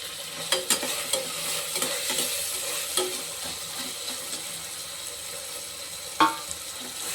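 Tomato and onion sautéing in a pan for a peas kootu, with repeated utensil scrapes and taps over a low continuous sizzle, close by and moderately quiet.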